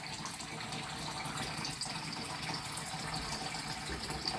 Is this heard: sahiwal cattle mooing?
no